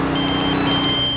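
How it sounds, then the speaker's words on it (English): A telephone rings alone, a steady electronic trill repeating in quick bursts, fairly loud and close, with no talk over it. "I hate phone calls at times like this."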